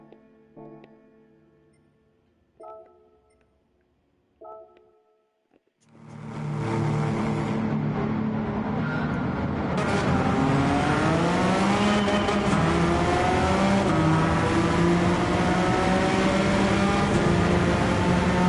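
After three short countdown beeps, the Gran Turismo 7 race car known as the Monster roars off, its engine climbing loudly through rising revs and gear changes, then holding a sustained, close, high-pitched drone.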